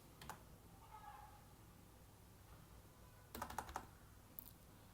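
Someone types on a computer keyboard on a Windows 10 machine, first a few faint isolated keystrokes, then a quick burst of clicks, all soft and close against a low background hum.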